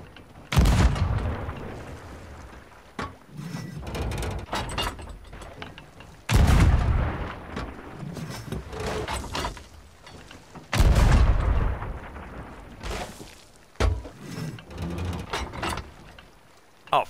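A player in Sea of Thieves fires three loud, booming gunshots several seconds apart. Each blast is followed by a long rumbling decay, with quieter mechanical clatter and scattered pops in between.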